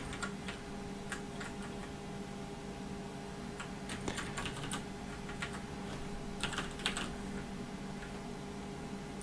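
Close computer-keyboard typing in bursts of irregular clicks over a steady background hum, with no talking, while someone programs and works with DWARF debug information.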